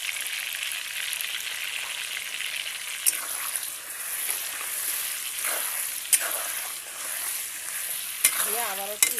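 Salted, turmeric-coated food is stirred in a pan, giving a steady soft sizzle and scraping broken by a few sharp utensil clicks against the pan.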